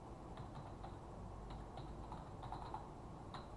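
Faint keystrokes tapped out on a computer keyboard, a few short irregular clicks clustered in little bursts over a steady low hum of room noise.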